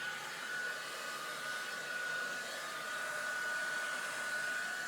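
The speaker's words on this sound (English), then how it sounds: "I'm gonna go over it again with the blow dryer" A blow dryer drying natural hair runs in a steady, continuous whir with a faint high whine, moderately quiet and unchanging, with no talk.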